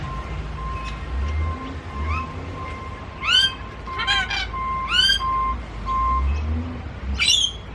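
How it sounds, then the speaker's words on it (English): Black cockatoos calling in a nature reserve park in Ipswich: several loud, harsh rising calls in short bursts, some in quick pairs, over a steady hum and faint background chirps, with no talking. "A couple of black cockatoos."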